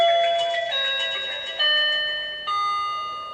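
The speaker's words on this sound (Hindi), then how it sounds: "जब तक बजर ना बजे हम अंदर नहीं जा सकते" The Bigg Boss house buzzer sounds as a bright electronic chime in three tonal steps, each note ringing out and decaying, loud and clear with no talk.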